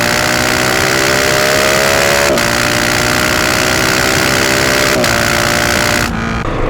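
A GasGas SM 700 supermoto motorcycle engine idles close by, giving a loud, steady, throbbing rumble with two quick blips in the middle before it settles slightly quieter at the end.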